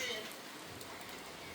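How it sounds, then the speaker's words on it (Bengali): Steady rain falls in Bangladesh, a soft continuous hiss close by with no distinct drops standing out, and a faint voice murmuring underneath. "অনেক বৃষ্টি হচ্ছে, বৃষ্টি দেখতে অনেক ভালো লাগে আমারও।"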